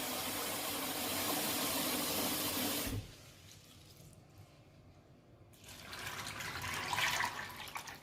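Clean water poured into a cooking pot with groundnuts, a loud continuous rushing splash for about three seconds, a quiet gap, then a softer trickling pour returning.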